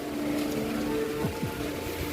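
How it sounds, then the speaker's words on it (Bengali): Steady rain falls as a faint, even patter that holds for the whole short stretch, with no voices. "বৃষ্টি হচ্ছে এই গত 1 ঘন্টা ধরে আর কি"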